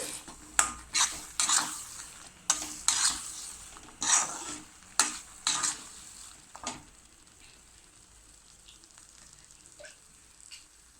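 A utensil scrapes and stirs onion and spice powders in a pan in quick rhythmic strokes over a soft sizzle, then the stirring stops and gentle frying continues.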